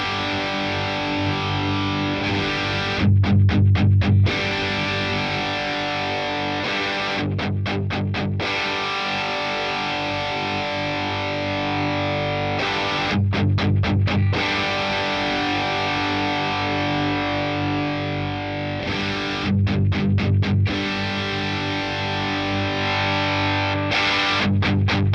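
Heavily distorted electric guitar through a Boss Katana 100 Head MKII amp, playing sustained lead lines with bursts of rapid picked notes recurring every few seconds, loud and continuous without speech.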